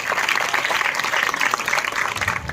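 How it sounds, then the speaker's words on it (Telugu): An audience at a government girls' junior college event applauds, a dense burst of clapping lasting a couple of seconds. "మీరు ఒక్కసారి గట్టిగా చప్పట్లతో కాలువ శ్రీనివాసులకు కృతజ్ఞత తెలియజేయాలి."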